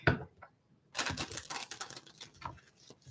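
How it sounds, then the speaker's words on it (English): Tarot cards being shuffled in quick riffling bursts of papery flutter and snapping, close and fairly quiet, separated by short pauses. "gonna do 2 more shuffles because it feels right"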